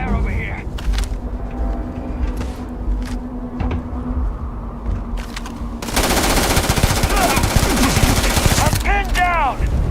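Rapid bursts of automatic gunfire in the video game Starfield, loud and dense, with a sustained barrage in the second half over background game sounds and voices.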